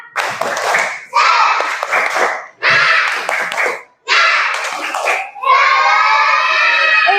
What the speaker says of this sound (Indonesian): Ayo semangat, tepuk semangat.